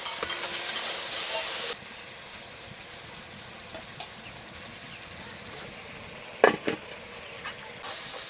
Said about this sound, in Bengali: হলুদ গুঁড়ো, নুন, লঙ্কা গুঁড়ো। একটু জল দিয়ে মশলাটা কষিয়ে নেব।